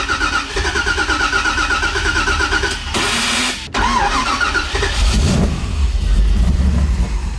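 An LS3 V8 swapped into a Nissan 350Z fires up through an import exhaust, a loud, close engine sound that surges and settles with a brief cutout midway before resuming with rough revving.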